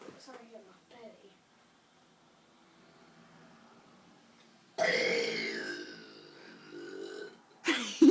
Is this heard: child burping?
yes